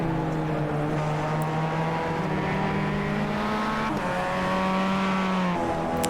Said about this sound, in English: Sounds like they're all crashing in the background.